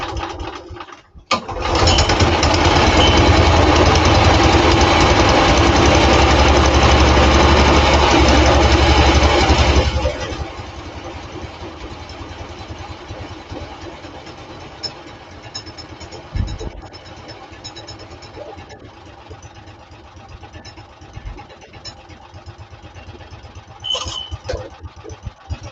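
A small engine roars loudly right after starting, then drops to a quieter, steady idle chugging for the rest, close by with occasional clunks.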